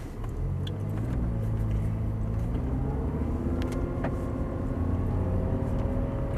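Audi R8 pulling away in first gear, a loud, continuous engine drone from inside the cabin with rising tones as revs climb, mixed with road rumble and faint clicks.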